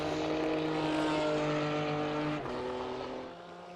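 A GT3 race car circles Bathurst in a racing video game, its engine holding a steady high whine, then dropping in pitch near the end as if shifting or braking, with no talk over it.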